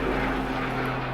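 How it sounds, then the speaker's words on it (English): Helicopters pass overhead as a steady, loud, droning engine roar that fills the whole moment without a break. "so many helicopters flying by"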